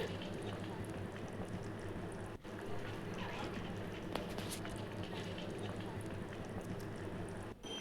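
Fish curry bubbling and simmering in a wok, a steady dense sizzle and gentle boil that holds at an even level throughout, with occasional faint clicks.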